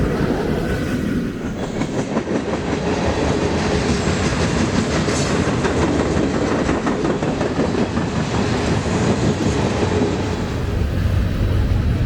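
A mixed-freight manifest train rolls past on a BNSF line, its cars rumbling and clacking loudly and continuously at close range, with no voices.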